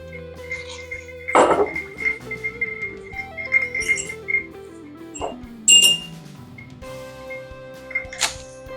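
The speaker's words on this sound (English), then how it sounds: "Let's stir this thing around here." A spoon stirs a cocktail over a large ice sphere in a glass, giving a few bright clinks and glassy chimes spaced apart over soft background music.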